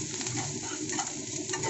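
Chopped green chilli, ginger and garlic fry in a little oil for readymade noodles, giving a soft steady sizzle with faint stirring, close and fairly quiet.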